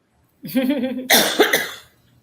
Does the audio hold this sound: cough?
yes